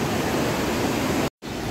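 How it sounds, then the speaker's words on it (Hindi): Broadband rushing water of the Beas river in flood country near Kullu and Mandi, a steady close roar that cuts out to silence for a moment before resuming. "और ये ब्यास नदी का बहाव, ब्यास नदी लगभग शांत है"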